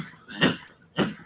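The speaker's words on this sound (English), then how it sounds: "Whenever I get excited, man, I be coughing" Two short, sharp coughs about half a second apart, close by and moderately loud, with quiet room sound between them.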